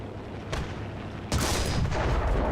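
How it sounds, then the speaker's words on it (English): Tank cannon fire from a Type 3 Chi-Nu in the video game War Thunder, a faint shot followed by a heavier booming blast with a rumbling tail, fairly close. "We're shooting through the bushes."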